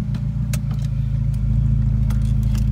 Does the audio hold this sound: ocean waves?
no